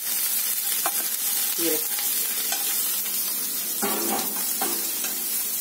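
Onion and garlic fry in a pan while nopales and chicken are cooked, giving a steady, close sizzle broken by a few stirring scrapes, with no talking.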